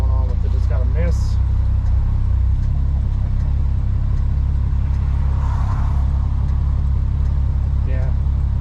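A 1965 AMC Rambler American 440 engine running with a misfire, a loud continuous low rumble heard from inside the car while people talk over it.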